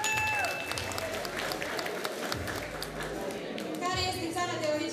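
Audience applause at a high school freshman ball, a moderate crowd clapping with some chatter mixed in and faint tones ringing through, steady across the whole stretch.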